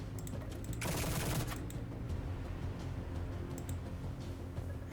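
Weapon fire in the Lucid9 fangame Echoes, a brief dense burst of rapid shots followed by faint scattered ticks over a steady low background.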